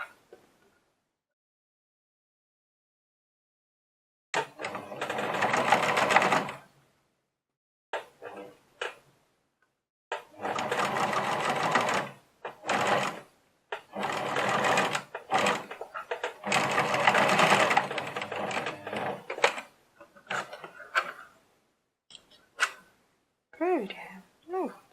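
A domestic sewing machine stitches a fabric strip for a key holder in bursts, whirring runs of a few seconds each separated by pauses, close and clear with no speech over it.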